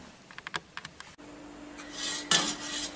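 A lid scrapes and clatters onto a pot of freshly boiled ginger-mint lemonade, a few light metallic taps followed by a louder sliding clank close by.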